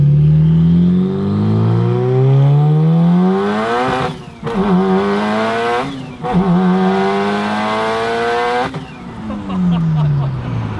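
A 500 hp Mitsubishi Evo with a twin-disk clutch accelerates hard, its engine note climbing loud and close through successive gear changes, with brief drops between shifts.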